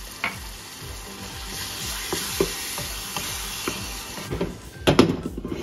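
Italian sausage and tomato sauce cooking together in a pan, a loud close sizzle with occasional utensil knocks and stirring scrapes, growing busier toward the end, no talk.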